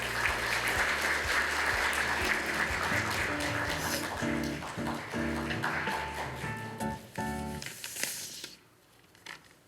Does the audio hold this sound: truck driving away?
no